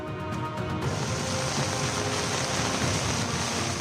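Heavy rain pours down in Mumbai as a steady, dense hiss that holds at an even loudness throughout, with no voices.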